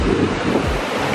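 Ocean waves wash up on a South Padre beach, a brief close rush of surf mixed with wind buffeting the microphone.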